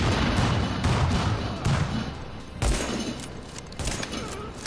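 Gunfire in The Division, a third-person shooter game: a dense, continuous fusillade with several heavier booming thumps standing out, all fairly loud and steady throughout.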